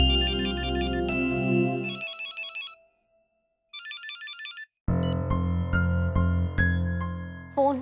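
A phone ringtone trills in loud repeated bursts, breaks off into near silence, then resumes with a fuller melodic ring, and the call is never picked up.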